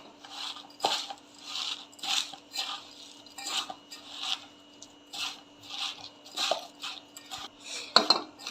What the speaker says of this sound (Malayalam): ഇതിനെ നല്ലതുപോലെ ഒന്ന് മിക്സ് ചെയ്തെടുക്കണം